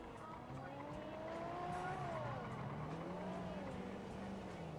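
Engine of a GTR sports car in GTA 5, a steady revving drone with rising and falling pitch sweeps, fairly loud and continuous, with possible tire noise and no clear talk.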